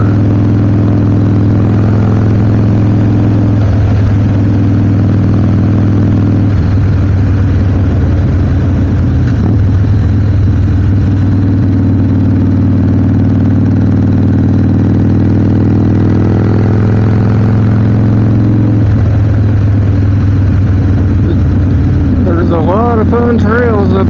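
A Harley-Davidson Sportster 1200 motorcycle engine drones steadily and loudly throughout a ride on country roads and trails, with a low rumble that shifts slightly as the revs change.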